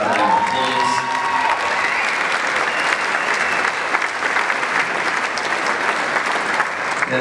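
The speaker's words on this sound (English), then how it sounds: "Have a round of applause." An audience at a Basketball Victoria Wall of Fame ceremony bursts into a loud round of applause with scattered cheers, after a brief voice at the start, the clapping continuing densely to the end.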